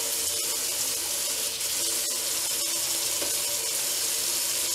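Water runs steadily into a sink while Surge milker parts are washed, a soft continuous hiss with a few small knocks from parts being handled and no talking.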